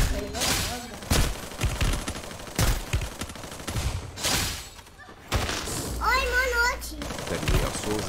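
Bursts of rapid video game gunfire, fusillades and machine-gun volleys, crackle loudly across the span, with speech mixed in and a short synthetic warbling effect near the end.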